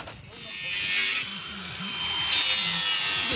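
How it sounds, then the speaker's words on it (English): A power tool notches metal joist hangers for timber joists on a garden room build, giving a harsh, high grinding whine in two bursts with a brief dip between, close and loud. "Just notching the joist hangers there so that we can bend them over."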